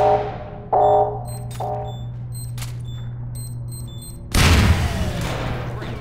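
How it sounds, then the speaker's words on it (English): A grenade goes off in a video game as one loud, sudden blast near the end, following a stretch of quiet electronic tones and beeps over a low steady hum. "Roll a grenade in there if you've got one."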